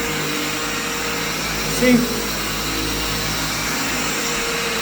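A vacuum cleaner's brush head works slowly over carpet with a steady, loud motor drone running throughout, while a person briefly speaks over it.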